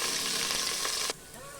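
Sliced onions and curry leaves sizzle loudly in hot oil for about a second, then the sound drops abruptly to a faint crackle.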